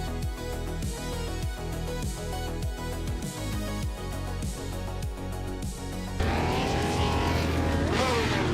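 Vintage race cars, including a 1953 entry, roar off the start at the Croft Retro race, with loud layered engine revving and repeated rhythmic gear pulses, building into a dense, louder surge of accelerating engines near the end.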